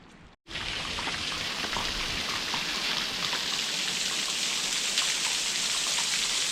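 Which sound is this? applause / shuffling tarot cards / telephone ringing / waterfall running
waterfall running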